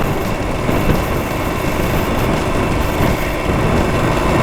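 A Yamaha DT100 motorcycle engine runs steadily while riding, a dense, continuous buzzing drone with rough broadband noise that stays loud and even throughout, with no talking.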